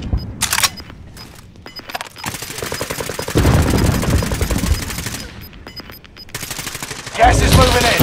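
Gunfire in Call of Duty: Modern Warfare, with bursts of automatic shots in quick succession and several louder stretches of rapid fire, broken by short quiet gaps. Game voice lines are heard between the shots.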